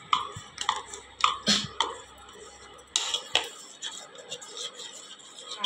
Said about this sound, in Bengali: কর্নফ্লাওয়ারটা দুধ দিয়ে গুলে নিচ্ছি